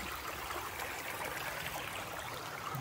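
Creek water runs steadily over rocks at an Appalachian Trail crossing, a continuous close rushing wash with no voices.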